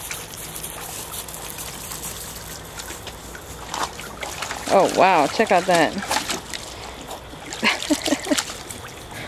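Water splashing and sloshing in bursts as a Goldendoodle dog moves through a pool, with a person exclaiming over it.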